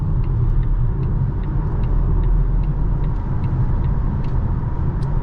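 2022 Volvo C40 Recharge Twin, a 408 hp electric crossover, under hard acceleration onto a highway: a loud, steady cabin rumble of road and wind noise with a faint, repeated ticking over it.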